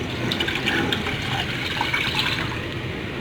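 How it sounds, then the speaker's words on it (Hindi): Milk is poured steadily into a pot of boiling masala chai, a continuous close liquid gush and splash at an even level throughout, with no talking. "अब हम इसमें डालेंगे 2 कप दूध"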